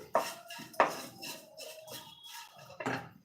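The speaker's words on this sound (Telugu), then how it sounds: "పాత్రలు అన్నీ ఉంటాయి ఇంకా క్లీన్ చేసుకుంటున్నానండి" Pots and dishes are washed in a home kitchen while bitter gourd fry is cooked, with sharp metallic clinks and clatters from utensils knocking together, several separate hits spaced irregularly, fairly quiet and close.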